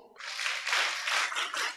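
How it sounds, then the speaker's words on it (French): Children at a Sunday school back-to-school gathering clap together in a dense, steady patter of many small hands, lasting under two seconds with slight swells. "Applaudissons."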